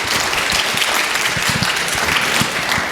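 Dense audience applause fills a talk about New York City mayors, a loud, steady wash of many hands clapping close by for the full few seconds.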